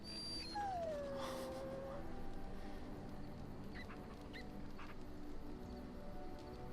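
A dog in Dragon Age: Origins whimpers and whines with a high, falling whine near the start, followed by faint yips over a steady game ambience.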